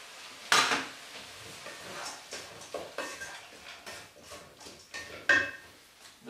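Venison meat goes into a slow cooker with clinks and knocks of a pot and utensils, a sharp clatter near the start and another later, amid quiet scraping and handling.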